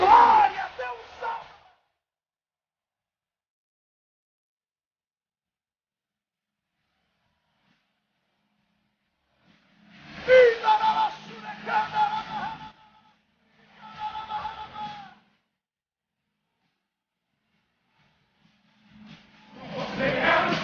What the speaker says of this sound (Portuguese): só quem é filho de Deus dê um grito de glória